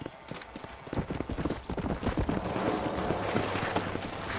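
Horse hooves clip-clopping in the video game Red Dead Redemption, a steady quick rhythm of hoofbeats that grows louder and denser as the horse nears, with faint gunfire-like pops and game ambience beneath.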